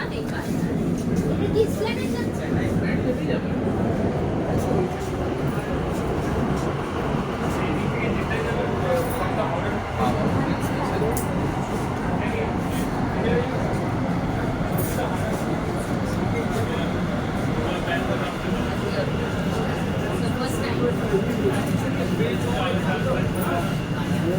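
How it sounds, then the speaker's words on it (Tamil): Steady mechanical rumble and hum of a Kolkata Metro train pulling into an underwater station beneath the Ganges River, continuous throughout, with people talking in the background. "ட்ரெயின் வரப்போகுது"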